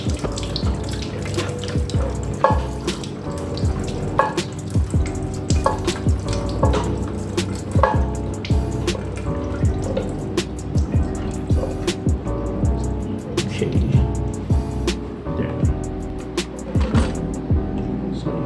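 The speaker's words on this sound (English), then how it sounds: "There'll be water flowing out. It's just the residue water in the tank." Residual water from a toilet tank splashes and trickles steadily over a long stretch, with intermittent clunks and handling noises close by.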